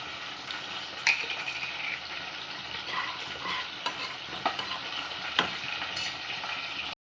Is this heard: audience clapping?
no